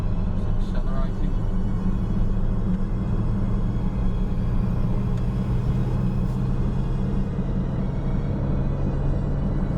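A Peugeot 306 car accelerating in fourth gear past 3,000 RPM, a steady low engine drone and road rumble filling the cabin without a break, heard from inside the car.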